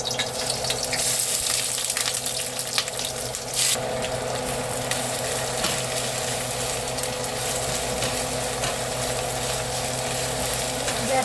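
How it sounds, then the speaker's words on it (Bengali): Onions frying in hot oil and ghee to make beresta, with a steady, dense crackling hiss that carries on without a break, joined by a brief louder burst of sizzling partway through. "পেঁয়াজগুলো ভেজে আমি বেরেস্তা করে নেব"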